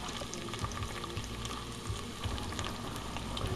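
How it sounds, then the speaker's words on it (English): Onions sautéing in light onion oil, a steady close sizzle and crackle with small pops throughout and no talk. "I'm finna saute them in this light onion oil right here"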